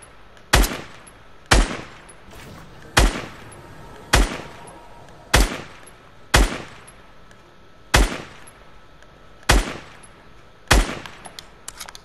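Nine sharp single gunshots from a first-person shooter video game ring out at regular intervals of about one per second, each loud crack followed by a short decay, with no voices.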